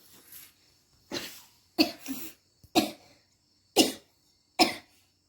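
A child coughs in a home, six separate dry bursts spaced about a second apart, close and fairly quiet, with no talking.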